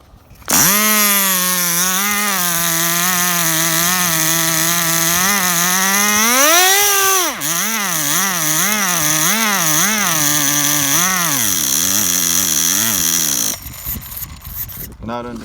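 A Tamiya TGS-R nitro engine with a fuel pressure problem buzzes loudly and steadily up close, rising in pitch, then wavering and sputtering unevenly before it dies away.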